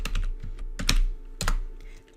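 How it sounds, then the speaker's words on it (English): Fingers type quickly on a computer keyboard while entering a document heading in Word Online, producing bursts of close, crisp key clicks with brief pauses in between. "Start by typing in your first and last name and then press the Enter key."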